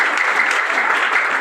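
A crowd gives a matric student a warm round of applause at an award ceremony, many hands clapping in an even, loud, unbroken wash from start to finish.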